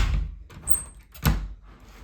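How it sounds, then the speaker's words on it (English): A toilet door handle with a faulty latch being turned, heard as a rattling metallic clunk and a brief squeak followed by a sharper latch knock, close and alone. "Here's the offending door, so you can see that when I turn it, it's not going all the way in"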